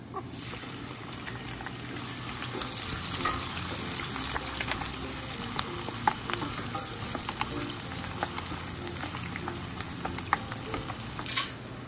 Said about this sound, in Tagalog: ngayon nagbo-brown na yung bawang natin, pwede na natin ilagay sibuyas